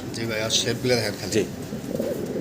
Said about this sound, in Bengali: বিশাল বিগ সাইজের ভিতরে এক্সিবিশন কবুতর আমরা দেখতেছি